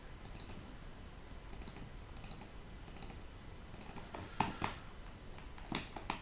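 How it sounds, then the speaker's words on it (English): A computer mouse is double-clicked while building a timber-home model in SketchUp. Faint, close clicks come in quick pairs and scattered singles over a quiet room hiss, and no one speaks. "I just double click."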